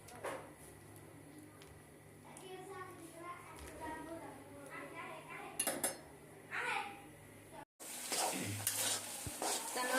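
Onion and green chili frying with fish roe in a pan, a soft sizzle under nearby talking, with a few spatula and pan clinks and a louder burst of frying near the end.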